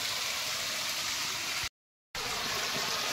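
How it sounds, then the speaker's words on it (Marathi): Water gushing steadily from a solar pump's outlet pipe, a loud, even hiss-like rush that drops out for a split second before resuming. "अशा प्रकारे बघा पाणी आलंय"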